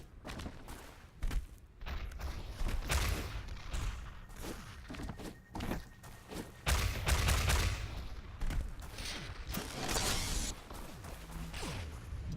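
Rocket launcher shots and explosions in a ShootMania competitive match, with repeated whooshing launches and thudding blasts in irregular bursts, mixed with busy game effects and movement sounds.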